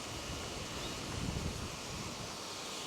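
Wind blows across an open pumpkin field, a steady, faint rushing hiss with a gentle swell in the middle and no talk.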